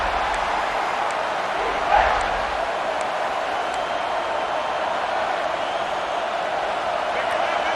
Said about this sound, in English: And the crowd coming to life here